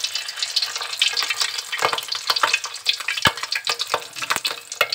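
Small fish roe fritters shaped like onion pakoras are dropped one by one into hot oil and fry loudly, with dense crackling, spitting and popping plus a few sharp splatters, close and continuous.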